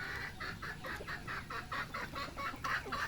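Chickens cluck repeatedly in a quick, regular rhythm, close by at a backyard coop in rainy weather, with a faint background hum.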